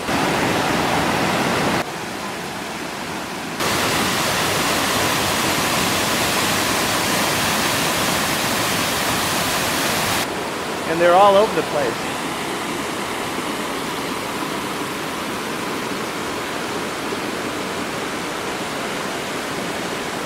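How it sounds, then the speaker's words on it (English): Waterfalls at a clear swimming spot in Mexico pour out a loud, constant broadband rush of falling water, close and steady throughout, with a brief spoken remark partway through. "They have these beautiful waterfalls that are here."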